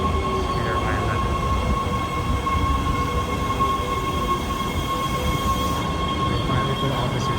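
Train on rails at Universal Studios Hollywood during the studio tour, a steady loud rumble and rattle of wheels running continuously throughout, with a faint tonal squeal above it.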